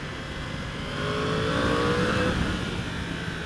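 A 2016 Yamaha R1S motorcycle engine droning steadily while riding, rising slightly in revs mid-way with wind noise around it; continuous and close.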